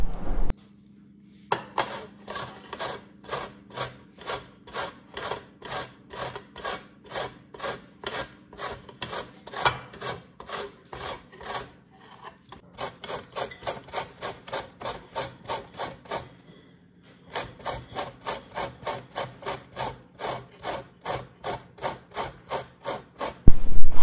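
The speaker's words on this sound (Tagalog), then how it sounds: "gumamit lang tayo ng ganito dahil kakayuri natin siya" Zucchini squash rubbed against a metal kitchen grater, a steady run of rapid rasping back-and-forth strokes close up, with two short pauses, alone with no talking.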